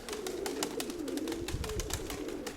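Pigeons and doves coo in low, steady murmurs at a loft, a continuous soft cooing from several birds with faint chirps and rustling over a constant background.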